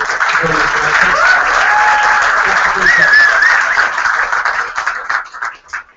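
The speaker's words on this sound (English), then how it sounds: "Would you please give them a round of applause?" Loud, sustained audience applause for Chinese Youth League performers at a Youth Olympic team farewell event, a thick roar of clapping with scattered cheers that fades out near the end.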